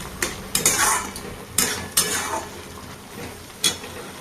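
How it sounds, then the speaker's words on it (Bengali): Leafy greens being stirred in a frying pan with a metal utensil, a few sharp scraping clatters against the pan over a soft sizzle, close and irregular. "এবার এই শাকগুলো দিয়ে দেবো। দিয়ে ভালো করে একটু নাড়িয়ে নিয়ে"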